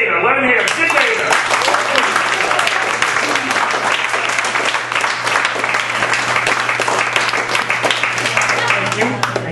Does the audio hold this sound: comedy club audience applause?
yes